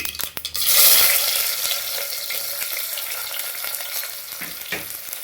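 Medium onions, sliced lengthwise, drop into hot oil and fry with a loud burst of sizzling that settles into a steady crackle, with a light stir and clink of a utensil.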